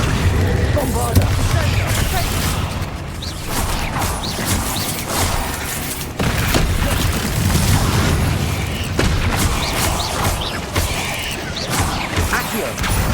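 Spell blasts and explosions in a video game crash and boom in rapid bursts, with whooshing impacts layered over a dense rumbling backdrop and shouted voices.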